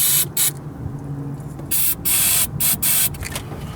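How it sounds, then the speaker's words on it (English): Starting fluid sprayed from an aerosol can into the engine of a seized 1978 Chevy truck, heard as five or six short, loud hissing bursts of uneven length over a low background rumble, with no talking. "we're just gonna spray a little bit of starting fluid in there"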